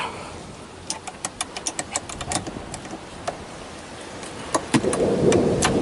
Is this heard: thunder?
yes